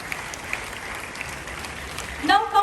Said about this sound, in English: A big hand clap for the student principal for today